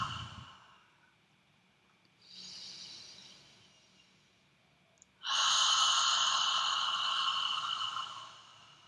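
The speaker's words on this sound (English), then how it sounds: "A few deep breaths in the nose and out the mouth." Deep meditative breathing, a soft inhale followed by a louder, longer airy exhale through the mouth, close and isolated in a quiet room with no speech.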